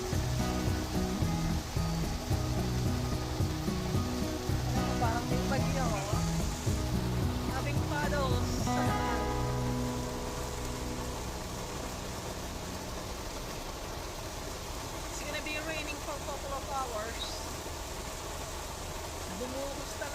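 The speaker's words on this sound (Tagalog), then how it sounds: "Inabot kami ng malakas na ulan sa daan." Heavy rain pours at night during a camping trip at Kerr Lake, a dense steady hiss, louder in the first half and easing slightly later, with voices talking over it.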